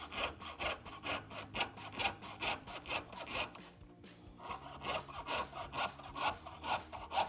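Close, rhythmic rasping of a jeweler's saw piercing metal with nice even strokes and light force, about two strokes per second in a steady back-and-forth pattern with a short pause midway.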